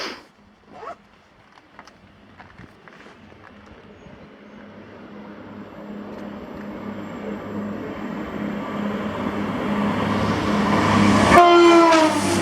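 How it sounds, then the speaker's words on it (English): A CrossCountry passenger train, service 1V62 from Glasgow Central to Penzance, passes Carluke, its rumble building steadily as it approaches, with a sharp horn blast near the end. "this was 1V62, the 1222 cross country service to Penzance from Glasgow Central"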